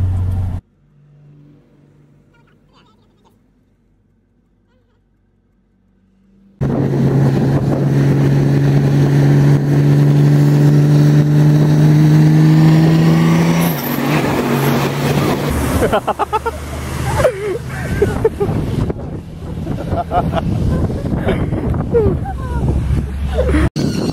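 A car driving on the road on the way back to Perth, heard from inside as a loud steady engine drone and road rumble with a rising tone, after a quiet start with faint sounds.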